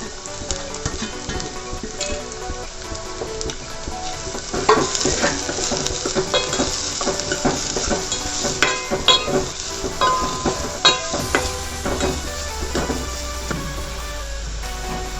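Onion frying in a pan for Kannada-style butti, a continuous crackling sizzle with stirring and scraping clinks, steady and close, swelling louder partway through, with background music running along.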